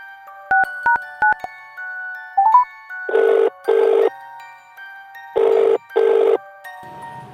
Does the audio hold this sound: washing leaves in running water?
no